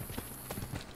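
Horse hooves clip-clop at a steady trot in the Assassin's Creed Brotherhood video game, with a quick, even rhythm of close, distinct hoofbeats over a dense game soundscape.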